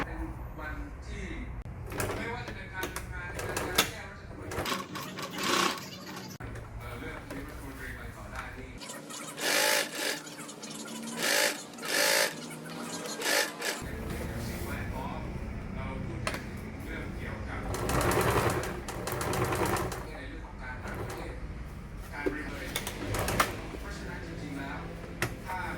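A sewing machine stitches a seam on a drawstring shoulder bag in several bursts of rapid whirring, broken by clicks and fabric handling, while a voice talks over much of it.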